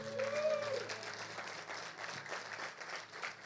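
A church congregation applauds at a morning worship service, a steady wash of clapping with some crowd noise and a faint tone underneath, holding fairly even for a few seconds.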